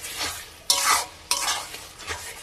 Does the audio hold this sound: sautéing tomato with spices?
yes